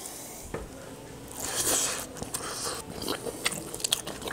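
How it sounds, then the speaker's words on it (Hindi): Someone bites into village-style bhuna mutton and chews, producing soft close crunching and wet mouth sounds over faint background clatter. "अबे पहली बाइट।"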